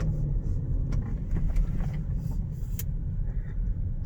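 Audi RS6 C8 cruising on a highway in efficient mode, heard from inside the cabin as a steady, subdued low engine and road rumble with faint tyre hiss and no speech.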